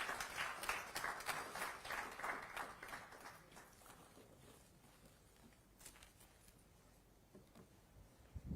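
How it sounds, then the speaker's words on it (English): A seated audience applauds at a business pitch event, a dense patter of clapping that starts fairly strong and fades to scattered faint claps by the end. "Let's give them a round of applause"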